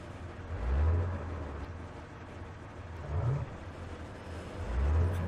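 Armored vehicle engine in the Arma 3 military game, revving in three swelling low rumbles spaced a couple of seconds apart over a steady idle drone.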